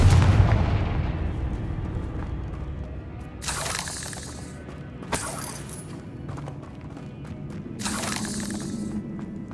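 A Confringo blasting spell explodes in the Hogwarts Legacy video game, a deep booming blast at the start followed by several sharp cracking bursts and shattering debris echoing through a catacomb.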